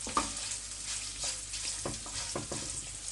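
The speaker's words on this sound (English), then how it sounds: "And also urad dal. Saute this." Urad dal sautés in a hot pan, giving a steady close sizzle with a few soft scraping stirs and light taps over it, and no voices.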